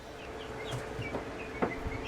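Guinea fowl calling near a farm enclosure, a few short clucking, chirping calls scattered over a low steady background, with one sharper call standing out near the end.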